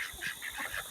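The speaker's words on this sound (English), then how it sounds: "You can hear the ducks and the geese behind me" Ducks and geese call outdoors at dawn during a hunt, a quick burst of honking notes from several birds at moderate distance, overlapping in an uneven rhythm with no talk.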